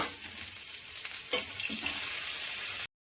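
Onions go into hot oil already tempered with whole cumin and a bay leaf, giving a steady, close sizzle and crackle of frying with a few soft stirring sounds before it cuts off.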